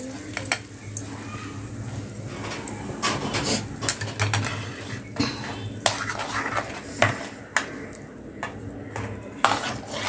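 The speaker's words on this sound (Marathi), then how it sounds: "छान अशी चटणी हलवून घेऊया" Spoon scraping and clinking against a pot while mango chutney is stirred with hot tempering oil of cumin, mustard seed and curry leaves, a steady low hum underneath and irregular metallic knocks throughout.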